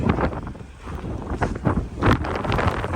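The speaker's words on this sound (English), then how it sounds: "It's windy though." Gusty wind buffets the microphone in uneven bursts, rumbling low and loud, with no voices.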